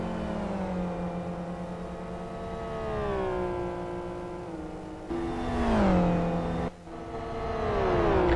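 Race cars in the Live for Speed racing game at an online championship round, with steady engine whines shifting pitch through gear changes and revs, loud and continuous, with a couple of brief drops.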